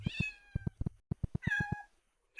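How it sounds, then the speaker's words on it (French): A cat sound effect in a Unity game demo with 2D spatial audio: a run of short, evenly spaced meows in two bursts with a brief pause between, clear and close, with no talking. "ici, on commence à entendre le chat"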